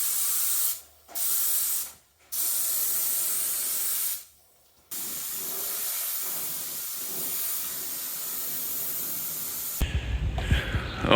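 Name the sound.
spraying primer onto restored Cushman Truckster frame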